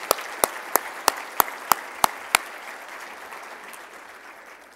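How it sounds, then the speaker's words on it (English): A regional state-of-the-region gathering where an audience applauds its local leaders; a steady wash of clapping under a slow run of loud, evenly spaced rhythmic claps near the microphone that stop halfway while the crowd noise fades. "Let's give all of these folks a great round of applause for their leadership."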